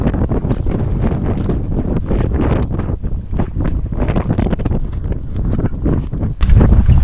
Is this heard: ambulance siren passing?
no